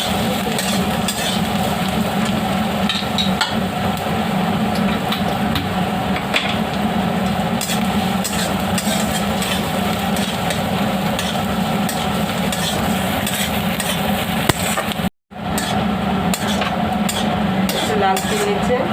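Onions fry in a pan for an egg and chicken chop filling, a steady close sizzle with scraping and stirring clatter throughout and a brief cut near the end.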